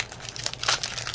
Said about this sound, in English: I'm shuffling the decks, people.